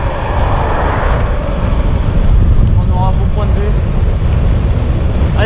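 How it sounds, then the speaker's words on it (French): Wind buffets the microphone as a rider pedals through day two of an ultra-distance cycling event in western France, heading toward the ocean: a loud, steady, low roar that lasts the whole stretch without a break. "il y a un peu de vent"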